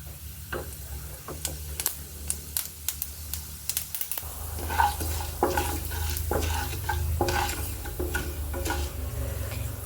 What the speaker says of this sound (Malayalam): കടുക് പൊട്ടി വരുമ്പോൾ നമുക്കിതിലേക്ക് ഉഴുന്നിട്ട് കൊടുക്കാം